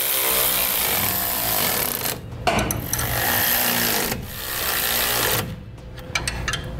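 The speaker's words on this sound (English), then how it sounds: "we'll use a wrench to hold the bolts in place while we tighten the nuts" Rapid ratcheting bursts from a wrench tightening nuts on bolts while installing Firestone Ride-Rite rear air helper springs on a 2012 Ford, loud and close in three long runs separated by short gaps.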